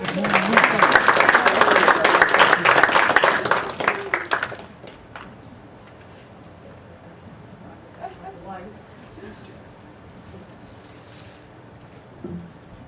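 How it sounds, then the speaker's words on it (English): Audience applause at a land trust annual meeting, a dense burst of clapping for about four seconds that tapers off into scattered claps and quiet room noise. "I want everybody to applaud for Chris as well."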